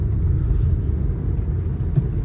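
A Renault Megane 2 with a replacement mount from a 2-litre engine drives along a road, heard from inside as a steady low rumble of engine and road noise, fairly loud and constant.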